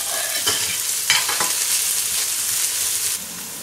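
Okra frying in a pan is stirred, several scraping strokes breaking through a constant close sizzle that drops away near the end.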